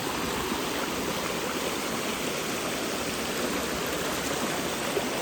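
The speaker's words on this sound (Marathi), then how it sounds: "मी असा पाण्यातून चाललो" Steady rushing and splashing of river water as someone wades across a river on foot, continuous and fairly loud with no talking.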